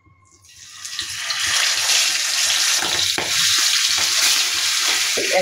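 Rupchanda (pomfret) fish dropped into hot oil, the sizzle swelling within the first second and then holding a loud, steady crackling fry throughout, with no talking.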